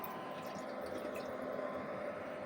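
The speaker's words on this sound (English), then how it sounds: "And while we've got water flowing," Water flowing from a small USB pump inside a homemade air humidifier makes a steady, soft trickling hiss that stays even throughout, close by and alone.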